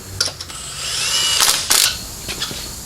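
Power tool rattling on the last lug nut of a Kia Soul wheel fitted with a new tire, a close, loud ratcheting whirr in short bursts, no talk.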